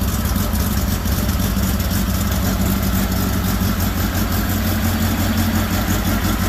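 A Volkswagen engine with Fitech fuel injection idles loudly and steadily through a homemade exhaust exiting in front of the rear tire, a deep constant rumble with a throbbing pulse, no speech.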